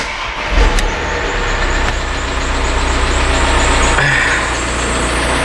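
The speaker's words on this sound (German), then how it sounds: "Jetzt sag nicht, ich kann das Auto starten." A Volkswagen Amarok's engine turns over and keeps running, a loud, close, steady rumble with a brief rise as it catches, then settles into an even idle.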